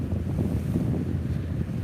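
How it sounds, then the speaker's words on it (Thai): A car ferry crossing to Koh Chang rumbles over the sea under a steady wash of wind buffeting the microphone and waves, continuous and fairly loud with no talking. "เรือออกมาแล้วนะครับ"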